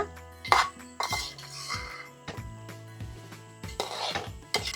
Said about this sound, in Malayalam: തീ ഏറ്റവും കുറവിൽ വെച്ചിട്ട് നമുക്കൊരു 2 മിനിറ്റ് ഇളക്കി കൊടുക്കാം.